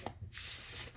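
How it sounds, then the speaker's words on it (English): A brief, soft riffle of a mass-market tarot deck being shuffled close up, a quick papery flutter lasting about a second. "I will shuffle the deck."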